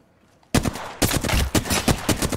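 Gunfire in the video game Apex Legends: a quiet moment broken by a loud burst, then rapid repeated shots in quick bursts, close and punchy.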